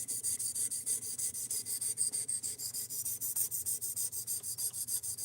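A Magnacut steel knife is sharpened on a belt sander, the blade rasping against the moving belt in quick, regular strokes, close and steady with no talk over it.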